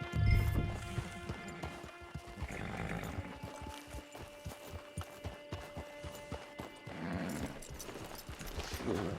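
A horse's hooves pound in a steady, rhythmic gallop across open ground in Red Dead Redemption 2, the even beats carrying clearly over faint ambient background sound.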